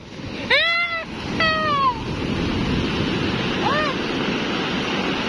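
Steady broadband wash of sea waves with wind buffeting the microphone, and a few high, whining vocal calls near the start.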